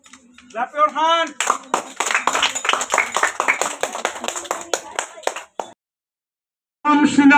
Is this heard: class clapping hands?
yes